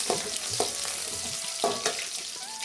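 Chopped garlic frying in a pan with steady sizzle and occasional spoon scrapes and stirs, faint and moderately close, with no talking.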